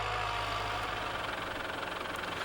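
A tractor engine idles with a low, steady rumble and faint rattling vibration while hitched to a tree planter, continuous and moderately loud throughout.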